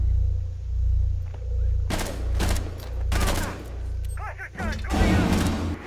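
Sniper rifle fire in Rainbow Six Siege on the Oregon map, shots coming from a watchtower: several loud, sharp cracks spaced over a few seconds above a steady low game hum.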